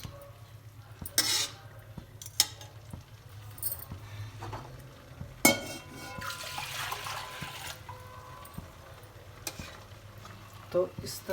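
Kandali, or stinging nettle, boiling in a pot of water in a Pahadi kitchen, with a low steady bubbling and occasional stirring clinks and knocks, fairly quiet and without speech.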